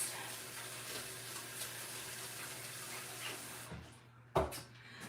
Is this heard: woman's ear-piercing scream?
no